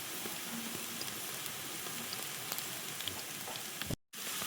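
Onions and green chillies frying in a pan, a soft continuous crackling sizzle held at an even level, close but fairly quiet, with no talking and a brief drop to silence near the end.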